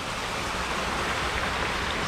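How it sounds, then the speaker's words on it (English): Water rushes steadily through a small mill run feeding an Atlantic White Cedar mill in Double Trouble State Park, a dense, continuous broadband wash heard close and loud with no talk. "Wow, this is really flowing today over here."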